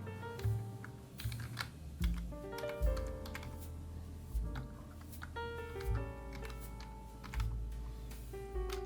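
Steady typing on a computer keyboard while an item name is entered in a software cash register, a quick run of close, clicky keystrokes with short gaps.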